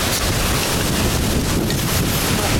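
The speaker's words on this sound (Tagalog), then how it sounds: "Ito yung in-expect namin dito, yung medyo malakas na hangin." Strong wind blows at a lakeside campsite, a loud, steady roar buffeting the microphone with no pauses.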